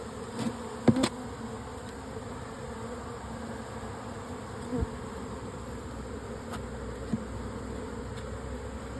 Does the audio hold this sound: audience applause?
no